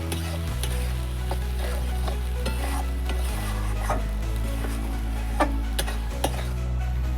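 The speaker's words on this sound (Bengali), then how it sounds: "যতক্ষণ না তেল না থাকছে ততক্ষণ একটু এটা ভাজবো" Mixed vegetables frying in oil in a home kitchen, a steady close sizzle with the spatula scraping and stirring at irregular intervals, broken by a few sharper clinks against the pan.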